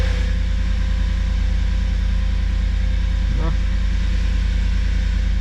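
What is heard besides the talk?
Audi A6 V8 FSI engine idling after cold start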